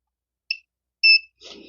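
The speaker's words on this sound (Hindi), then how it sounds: "मल्टीमीटर को मैंने बजर मोड में रखा, आपको बजर सुनाई दे रहा होगा।" Multimeter set to buzzer (continuity) mode while probing the pins of a six-pin regulator on a Free Dish HD set-top box board: two short, clear electronic beeps, the second longer, followed by a faint rustle.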